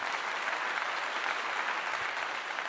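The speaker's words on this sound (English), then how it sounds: "So we got to give him that clap again." Loud, dense clapping from a crowd at a Colorado football post-game event, applauding a defensive sack, sustained and even with no talk over it.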